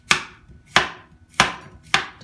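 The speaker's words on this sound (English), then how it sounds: "I'm going to cut a little bit of this zucchini off" Four crisp knife chops through a piece of zucchini onto a cutting board, evenly spaced about every half second, close and clear with no talk.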